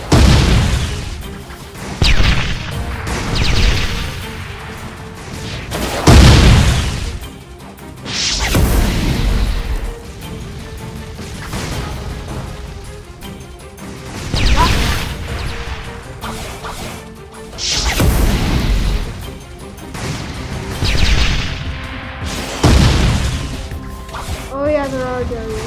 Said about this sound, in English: Rockets flying everywhere.